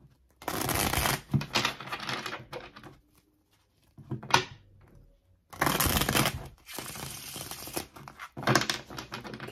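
Tarot cards being shuffled in bursts of papery riffling and shuffling, close and crisp, separated by short quiet pauses, with no talking.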